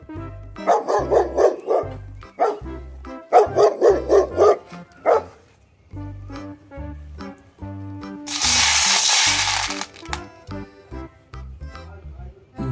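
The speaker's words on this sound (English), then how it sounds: "This is dog." A dog barks in short repeated bursts of yips and woofs, loud and close, over a bouncy looping backing tune with a brief hissing burst partway through.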